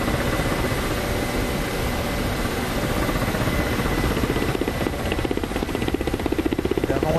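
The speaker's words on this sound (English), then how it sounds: "flying a helicopter is a different feeling" A helicopter in the DCS World 2.7 flight simulator game gives a loud, steady rotor and engine drone throughout, with a rhythmic blade chop that grows more pronounced toward the end and no voices.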